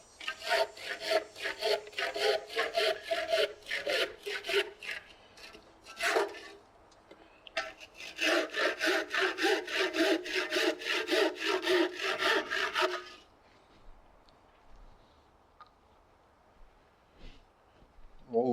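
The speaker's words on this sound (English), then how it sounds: "I'm going to saw these off." A handsaw cuts through timber pegs on a scarf joint in quick, rhythmic wooden strokes. There are two bursts of sawing with a brief pause between them, then quiet and a few faint knocks.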